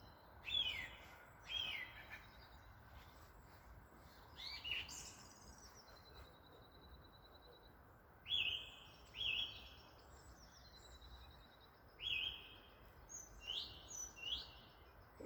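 Songbirds sing in a spring setting, with a blackbird and a robin among them; bright whistled phrases and chirps come in short bursts at a moderate distance over a quiet outdoor background.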